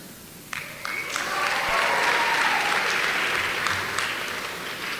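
A seated audience at a university commencement ceremony bursts into sustained applause, a dense, loud wash of clapping that holds steady for several seconds, with no voices above it.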